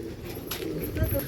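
A released breeding pair of large pigeons coos softly at a farm, with low murmuring calls amid faint background noise and a person talking.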